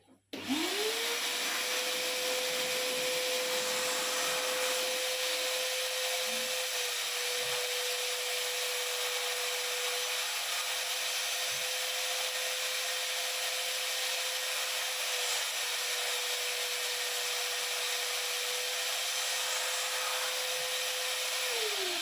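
A household vacuum cleaner switches on and runs at a steady, loud drone for the whole stretch, then powers down at the end, with no talking over it.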